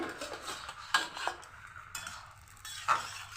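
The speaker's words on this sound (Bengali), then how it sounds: "এবার ডাকনা খুলে দেখি" A metal lid comes off a pot of simmering shing fish curry with bitter gourd and potato, giving a few light clinks and scrapes of metal on metal, close and fairly quiet.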